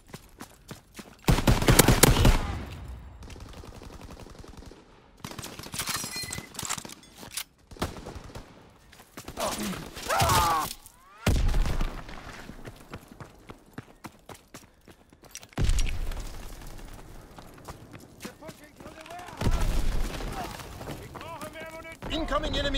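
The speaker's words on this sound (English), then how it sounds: "Incoming enemy artillery, get to cover." Incoming enemy artillery in Call of Duty WWII online match, with repeated heavy explosions and bursts of gunfire in loud irregular clusters separated by quieter gaps, with game voices in places.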